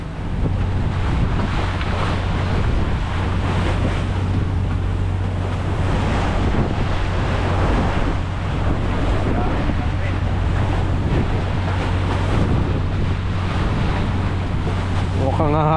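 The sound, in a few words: ocean waves crashing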